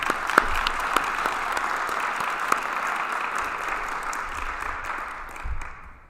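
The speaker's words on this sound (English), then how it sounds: "So a round of applause, please." Audience applause at a county GOP organizing convention, a steady wash of clapping from the hall that holds level and then tapers off toward the end, with no speech.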